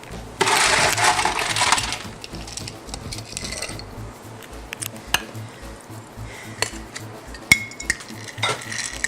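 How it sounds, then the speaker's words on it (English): Ice cubes tumble into a metal cocktail shaker for a Clover Club, giving a loud clattering burst at first and then scattered clinks and knocks against the metal. "Now to that, I'm going to add a little ice."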